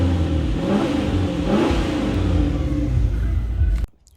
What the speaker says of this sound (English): I'm about to rev it up.